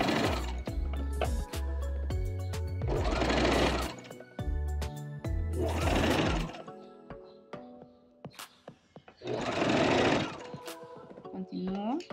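A sewing machine straight-stitching a ruffle onto a garment hums in several loud, close bursts separated by pauses, with clicks and handling sounds between runs and a voice speaking over parts of it.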